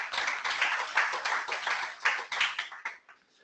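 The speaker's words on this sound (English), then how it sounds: "So a round of applause for that team." A small crowd at a company meeting claps for a team, a brief burst of dense, close hand claps that thins out and fades within a few seconds.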